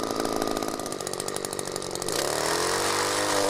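An Echo PPT-280 power pruner's small two-stroke engine revs loudly at close range while cutting a tree branch collar flush to the trunk, the whining saw note rising and steadying as the chain bites.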